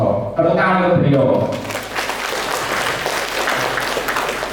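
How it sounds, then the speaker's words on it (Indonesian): An audience at a school's new-student orientation parenting talk show applauds a speaker, a steady spread of clapping that rises as a voice finishes and continues evenly to the end. "Tepuk tangan untuk beliau."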